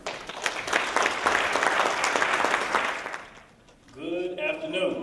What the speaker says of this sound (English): let's give a well-deserved round of applause and welcome on stage Dr. Kalfani.